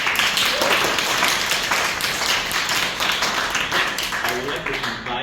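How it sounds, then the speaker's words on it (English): Applause from a Toastmasters club meeting audience, steady clapping across the room, with talk heard over the clapping. "So, applause."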